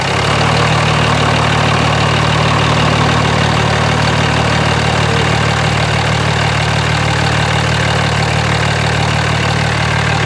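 A Cummins diesel truck engine, fitted with a new S472 turbo, idles steadily after a cold start in a shop: a loud, continuous low rumble with a rough knocking clatter and no voices.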